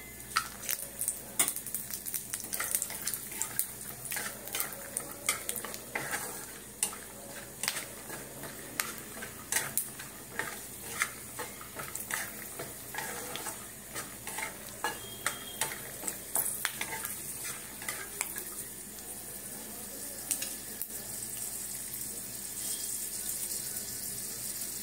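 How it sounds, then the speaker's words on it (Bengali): Peanuts frying in a pan for a curry, with steady soft sizzling and frequent light scraping and clattering as they are stirred, close and alone without voices. "এবারে বাদামগুলোকে ভেজে নেব।"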